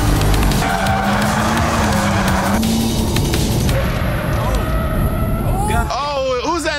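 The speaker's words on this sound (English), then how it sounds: "We were both sliding into that corner" Nissan race cars sliding and skidding through a track corner at a racing academy, with a steady engine drone, tire squeal and short chirps near the end, under a voice speaking.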